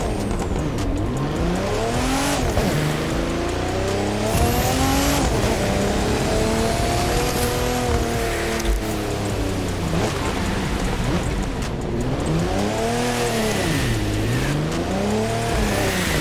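A four-wheel-drive Mitsubishi with a roughly 3-litre engine driving in The Crew 2 during a sandstorm, engine revving up and down in repeated sweeping pitch arcs over a constant windy roar, loud and continuous with no talk.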